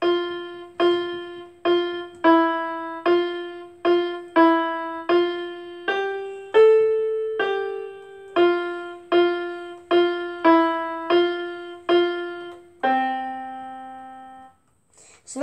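A keyboard plays a melody as clear, evenly spaced single notes, a steady rhythmic phrase ending on a longer held note, close and alone.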